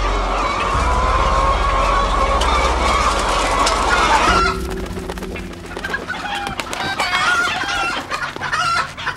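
A large flock of about 10,000 hens clucks loudly and continuously, with a rooster crowing among the crowded, layered calls.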